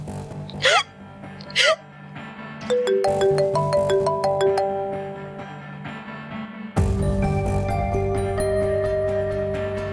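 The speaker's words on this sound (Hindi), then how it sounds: "यासिर फोन उठाओ" A phone ringtone plays a melodic electronic tune, loud and sustained, following a couple of short sharp vocal sounds near the start.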